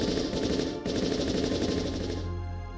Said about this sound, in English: The gunfire was so loud, I almost screamed.